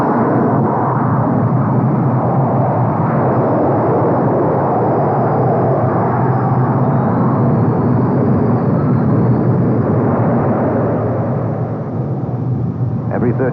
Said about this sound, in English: From a standing start, 20 tons of aircraft reach flying speed in 2 seconds flat.